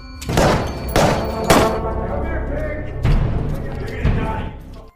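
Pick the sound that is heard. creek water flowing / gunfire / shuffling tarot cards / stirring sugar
gunfire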